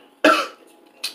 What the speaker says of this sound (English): Trying to hold in my grandma cough, but it hits, smacks.